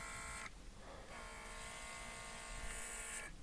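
A new airbrush hisses while spraying primer onto a model Italeri BR41 locomotive, with a steady close buzzing spray broken by two brief pauses, and no talking.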